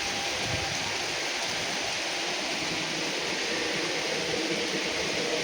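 Rain falls steadily outdoors near a bungalow-style house, a dense even hiss of drops that holds at constant volume, with no voices.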